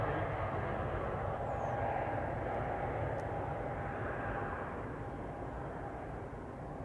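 An aircraft at Manchester Airport produces a faint, distant, steady engine drone that fades slightly toward the end, with no nearby voices.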